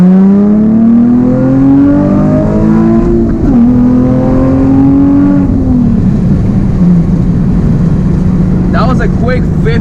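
A Nissan 370Z accelerates from inside the cabin, its loud engine note rising steadily in pitch through the gears with a brief dip at a shift, close and continuous, with a voice speaking over it near the end.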